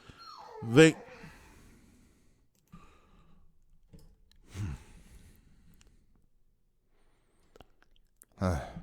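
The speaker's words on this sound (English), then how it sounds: "My dog's going crazy over here, bro." A dog barks and whines in bursts near the start and end of the stretch, fairly close, with quieter rustling and low room noise in between.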